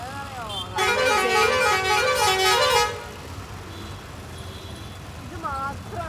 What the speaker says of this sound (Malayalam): വണ്ടിയുടെ ഹോണടി സഹിക്കാൻ വയ്യാട്ടാ, ഭയങ്കര ശബ്ദം എല്ലായിടത്തും